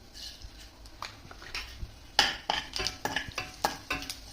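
Mustard seeds and cumin sizzle in hot oil over medium heat, with soft crackling and irregular sharp pops and ticks close by as the seeds splutter in the pan.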